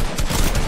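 Burst of gunfire in the Fortnite battle royale game, a short dense fusillade of rapid shots filling the brief moment, loud and close with no talk over it.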